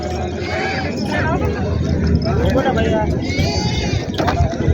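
Goats bleating among a crowd at a busy open-air goat market in Maharashtra, several overlapping calls rising above a steady hubbub of voices and people talking nearby.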